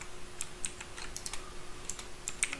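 Quick bursts of computer keyboard keystrokes while Java code is copied, a handful of crisp, close clicks spread unevenly over a few seconds above a faint steady hum.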